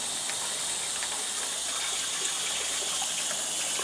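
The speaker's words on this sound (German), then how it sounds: "Mach hier erstmal jetzt Wasser rein und dann sehen wir, wie das funktioniert." Water pouring steadily into a bird bath in Thailand, a constant close gushing splash with no pauses and no speech.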